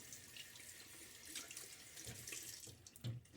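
Tap water runs steadily into a sink to soak a shaving brush before lathering Palmolive hand soap, a continuous close splashing flow with a slight change in the stream near the end.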